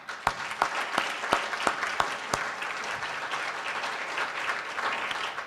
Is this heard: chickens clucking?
no